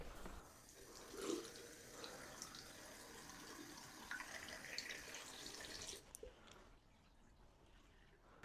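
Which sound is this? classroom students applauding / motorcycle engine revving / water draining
water draining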